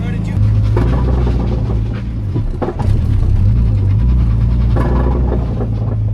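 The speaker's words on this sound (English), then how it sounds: "My axle's making some crazy noises." BMW E46 driven at night with a faulty axle, a steady loud drivetrain and road drone with rhythmic knocking and grinding underneath, plus a brief dip and thump midway.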